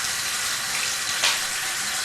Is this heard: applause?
no